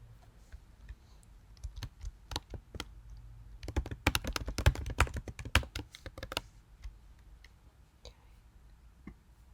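Fingers type on a computer keyboard in a quiet room, sparse clicks at first building into a fast dense burst of keystrokes, then slowing to a few scattered taps.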